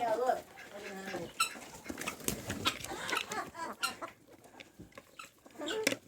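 A farm rooster with a can stuck over his head clucks and calls in short bursts, with people talking and laughing close by throughout.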